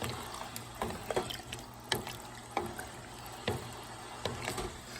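A spoon stirs chunky chicken and vegetable keto soup in a pot, giving soft liquid sloshes and light knocks against the pot in an irregular rhythm, quiet and close, with no voices.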